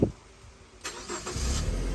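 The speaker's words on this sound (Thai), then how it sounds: "สตาร์ทที่เดียวติดนะครับผม" A Ford Focus 1.8 automatic cranks and starts at the first attempt after a quiet pause, its engine catching and settling into a steady, close idle with no talking.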